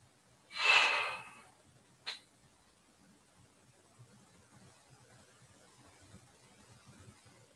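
A deep, close inhale during a Guolin chi kung breathing exercise. One strong breath rushes in for under a second, then a brief second breath follows, and the rest stays near silent.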